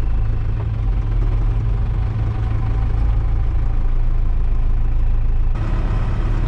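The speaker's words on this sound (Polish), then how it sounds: "Ten już jada traktorem, żeby wyciągać" Tractor engine driving through a very wet, muddy clay field on sloping ground during corn chopping, a steady loud low rumble running throughout with a slight shift near the end.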